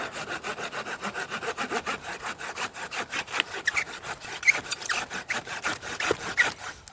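Rhythmic back-and-forth sawing through wood with a Camillus CamTrax saw, close and steady, with strokes turning rougher and catching midway as the blade binds.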